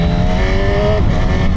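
A Honda Hornet 1000 SP motorcycle engine pulls hard while riding, a loud, close, steady roar with a rising tone that shifts near the end as the electronic throttle is worked.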